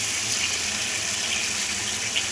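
Water is poured into a pan of paneer masala, a continuous bright splashing gush that stays loud and even throughout, with no voices.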